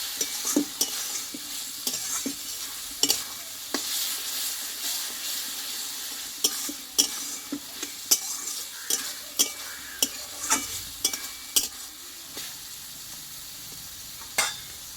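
Spice masala for a Bengali mutton curry frying in oil while a spoon stirs it, steady sizzle broken by frequent sharp scraping clinks against the pan throughout, close and moderately loud with no talking.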